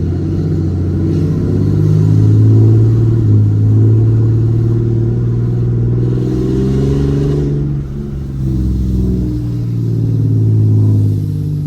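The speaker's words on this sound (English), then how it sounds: "activate our exhaust brake and take her for a spin around the block" A Cummins diesel engine in a Megacab pickup truck rumbles deep and loud while driving, revving up and easing off in swells with a brief dip partway through.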